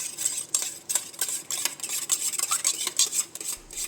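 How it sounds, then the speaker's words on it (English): A spoon stirs a dish soap mixture in a container, giving rapid scraping clinks and swishes in an uneven rhythm, close and fairly loud with no talking. "Give it a good stir."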